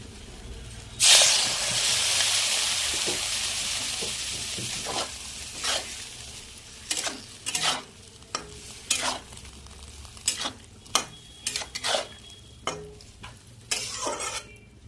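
A vegetable curry with salt, turmeric and a little water sizzles in a pan, starting with a loud hissing burst that settles into a steady sizzle, followed by a run of regular scraping stir strokes.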